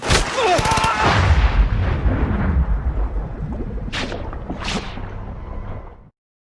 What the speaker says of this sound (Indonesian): Namun Roka terkena tembakan.